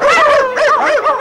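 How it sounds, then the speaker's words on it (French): Several dogs in a town street in the animated Paddington series let out close, loud, whiny yelping barks in three quick rising-and-falling bursts. "J'avais jamais remarqué autant de chiens par ici."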